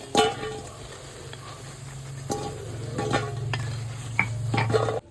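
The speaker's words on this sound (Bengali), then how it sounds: "এইভাবে সব বড়াগুলো ভেজে নেব" Lentil fritters (bora) frying in oil in a kadai, a moderate bubbling sizzle with a low steady hum and several sharp scraping stirs and clinks of the spatula.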